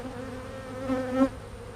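Honey bees swirling back into a packed hive entrance form a steady, close buzzing drone, swelling briefly louder as the swarm moves past.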